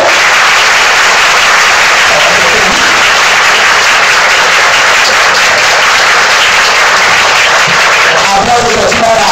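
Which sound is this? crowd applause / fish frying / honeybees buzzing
crowd applause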